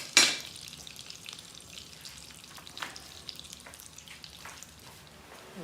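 Chopped garlic frying in a pan for a family pork rib spaghetti, a steady close sizzle with a sharp crackling burst at the start and faint stirring clicks on top.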